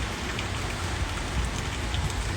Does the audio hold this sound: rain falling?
yes